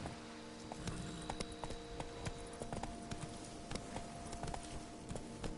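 Roach the horse's hooves clip-clopping in The Witcher 3: Blood and Wine, a steady walking rhythm of crisp, fairly faint hoof strikes over quiet ambience.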